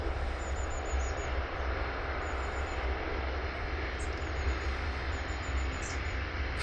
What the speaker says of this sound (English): But she is airborne.